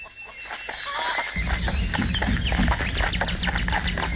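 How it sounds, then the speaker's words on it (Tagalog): A hen clucking in a short run of quick calls, mixed with other farmyard noise and a deep rumble of background sound, fairly close. "Naririnig kong pumuputak ang isang manok mo."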